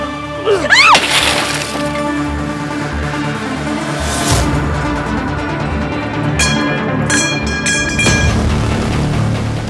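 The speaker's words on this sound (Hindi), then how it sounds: "अपनी गाड़ी का शीशा कौन तोड़ता है?" A car's window glass is smashed with loud cracking and shattering bursts, followed by scattered crashes and tinkling shards over a continuous musical background.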